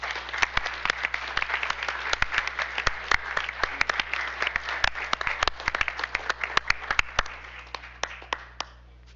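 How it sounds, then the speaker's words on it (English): A room of attendees at a school district board meeting applauding, a dense burst of clapping with distinct individual claps that gradually thins out and fades toward the end. "let's give them another round of applause"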